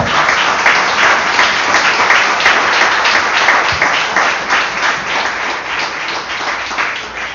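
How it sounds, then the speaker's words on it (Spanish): A church congregation applauds steadily and loudly throughout, a dense, continuous wash of many hands clapping with no talk over it, tapering only slightly toward the end. "Vamos a aplaudir al Rey que viene pronto."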